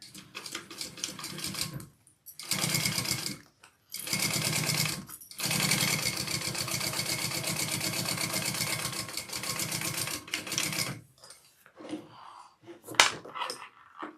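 A sewing machine top stitches two layers of backpack fabric together in rapid mechanical bursts, several runs of needle clatter broken by short pauses, ending with quieter scattered handling noises.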